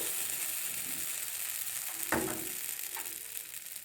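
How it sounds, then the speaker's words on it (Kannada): A chickpea masala dosa cooks with oil on a pan, giving a soft, steady frying sizzle with one brief scrape near the middle and a faint tap later. "ಮೇಲೆ ಸ್ವಲ್ಪ ಎಣ್ಣೆಯನ್ನು ಹಾಕ್ಕೊಂಡು ಇದನ್ನು ಮೀಡಿಯಮ್ ಉರಿಯೆಲ್ಲ ಇಟ್ಕೊಂಡು ಬೇಯಿಸಿ"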